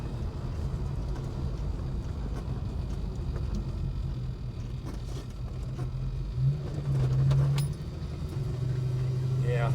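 Holden HK car engine idling low and rough, a steady close rumble with a faint metallic jingle and a brief rise near the end, while someone talks in bits throughout.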